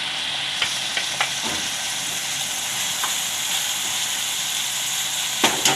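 Tomatoes with turmeric and coriander-cumin powder frying in a pan for a fafdi gathiya curry, a steady close sizzle and hiss with a few scattered clicks of a spoon against the pan, no voices.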